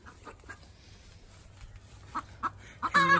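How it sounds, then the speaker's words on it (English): Chickens in a backyard chicken run give several soft, scattered clucks, quiet and close, ending in a louder squawk. "We'll try and get these other chickens in here somehow."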